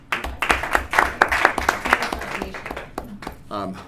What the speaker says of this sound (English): Give him applause